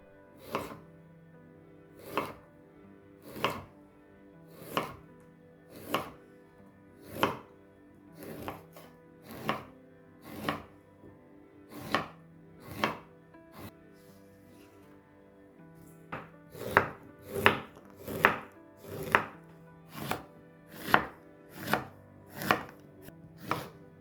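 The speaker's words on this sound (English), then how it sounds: "Chop them into slices or cubes." A knife chops quince into slices or cubes on a board, with about twenty sharp, close cuts in a steady rhythm that quickens toward the end, with no talking.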